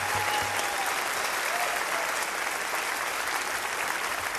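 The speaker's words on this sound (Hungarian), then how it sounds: "egy nagyon nagy tapsot kérünk szépen neki" A concert audience at a jazz trio performance applauds steadily, a dense wash of many hands clapping at an even level from start to end, heard from within the hall.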